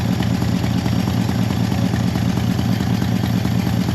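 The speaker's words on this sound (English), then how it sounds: "Idling, no choke." Close up, a car engine idles with the choke off, giving a steady, even low rumble with a regular pulsing beat and no speech.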